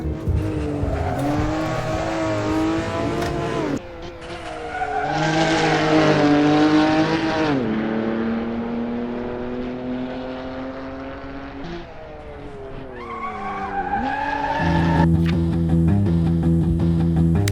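A Lotus Esprit sports car drives fast on a race track, its engine note rising and falling through gear changes and swelling loudly as it passes, with tyre noise under the roar.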